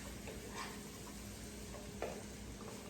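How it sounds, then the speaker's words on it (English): Vegetables for ham and bean soup sautéing in a pot, a faint low sizzle with a couple of soft stirring scrapes, quiet and close. "Saute these beautiful vegetables."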